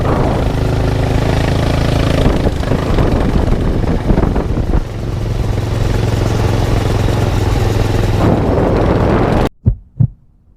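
A barstool racer, a fast racing lawnmower, roars steadily as it is ridden, its engine droning loud and close with wind buffeting the microphone, then cutting out abruptly near the end, leaving a couple of faint thumps.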